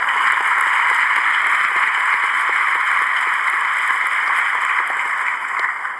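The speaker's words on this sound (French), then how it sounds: "je vous propose d'applaudir Michelle Bachelet" Audience applause at a United Nations ceremony marking thirty years of children's rights in New York, a steady dense clapping wash that holds at even loudness throughout before easing slightly near the end, with no talking over it.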